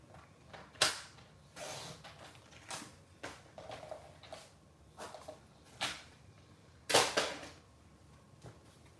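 White cardstock being cut for a handmade thank-you card, a series of sharp snips and clicks at irregular intervals, close and fairly quiet, with soft handling rustles between cuts.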